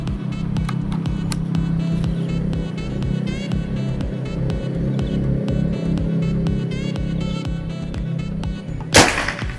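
A PCP hunting air rifle fires a second time, one sharp burst near the end, over a steady rhythmic ticking and a low, engine-like hum.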